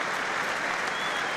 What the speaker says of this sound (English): the round of applause at Ashton Gates comes from the fans